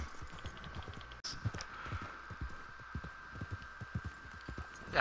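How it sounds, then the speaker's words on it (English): Horse hooves clip-clop at a steady walking pace in the open world of Red Dead Online, soft and fairly close over a faint background hum, with one brief sharp click partway through. "Yeah, is that just someone's random horse?"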